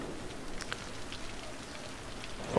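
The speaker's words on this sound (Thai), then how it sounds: "ฝนก็ตกด้วยนะครับ" Steady rain falls in the city-building game Cities: Skylines, a continuous hiss of drops on surfaces with a few brighter patters, holding even throughout and heard alone without voices.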